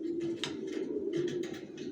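Moulting racer pigeon babies coo in a low, steady drone, with soft flutters and scratchy bursts pulsing over it, close by and fairly quiet.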